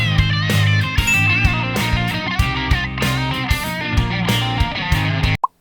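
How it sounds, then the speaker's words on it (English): An overdriven electric guitar solo runs through bending, sliding phrases over a driving drum beat, loud and full, stopping abruptly at the end. "Or would you rather it sound like this?"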